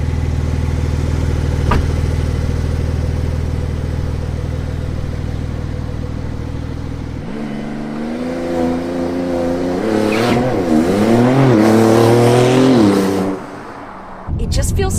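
A Porsche 911 Turbo S engine idles with a deep rumble, then revs and accelerates hard, its pitch climbing and shifting through gears, loud and close.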